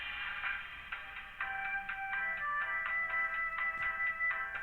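A phone ringtone plays a repeating electronic melody of bright, evenly spaced tones, steady and moderately loud with no voices over it.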